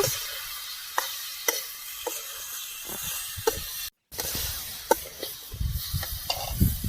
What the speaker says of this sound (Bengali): ফাটিয়ে রাখা টক দই, একটু ভালো করে কষিয়ে নেব।